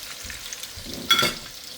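Chicken pieces frying in a hot pan, a soft steady sizzle with a brief louder burst of crackle and a scrape midway, no voices.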